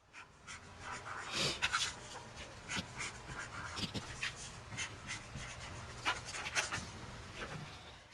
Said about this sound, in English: Now, I'm going to go ahead and label my parts.